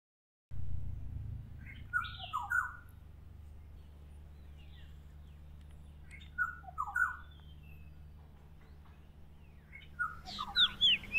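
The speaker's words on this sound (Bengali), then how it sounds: "এরপর দেখাবো ইন্ডিয়ান কুক্কুকে, যাকে আমরা বাংলায় বউ কথা কও বলি। চলুন বউ কথা কওয়ের সাথেই দেখে নিই বেনে বউকেও।" Indian cuckoo and black-hooded oriole calling outdoors, clear melodic whistled phrases repeated in spaced bursts over a quiet background, fairly close.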